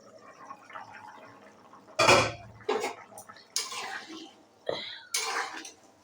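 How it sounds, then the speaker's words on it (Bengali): A metal lid is lifted off a cooking pot of potato curry with a sharp clank, followed by several more clinks and scrapes of cookware, close and moderately loud, with no talking. "এবার আমি ঢাকনাটা খুলে দেখি"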